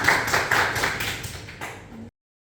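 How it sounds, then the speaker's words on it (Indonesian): A classroom of language students claps together in a short burst of quick, sharp hand claps that stops abruptly after about two seconds, close and fairly loud with no talk. "Tepuk tangan bersama."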